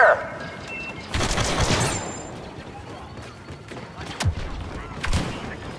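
Blaster gunfire from the video game Star Wars Battlefront 2, with a burst of rapid shots followed by two sharper single reports amid a continuous battlefield din.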